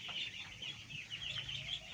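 Eight-day-old Peking hybrid ducklings in a rearing pen give a steady chorus of high, thin peeping, many overlapping calls close by with no voices.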